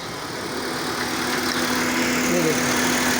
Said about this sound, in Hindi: इंजन भी चल रहा है सारा कुछ